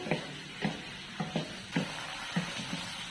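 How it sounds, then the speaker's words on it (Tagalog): Chicken in coconut milk with shrimp paste sizzles softly in a pan while a utensil stirs it, making about eight light scraping knocks in an uneven rhythm. There is no talking. "Haluin natin."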